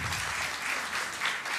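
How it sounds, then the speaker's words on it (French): An audience at a 2012 anti-corruption competition ceremony claps, a dense, steady burst of applause lasting under two seconds. "On applaudit."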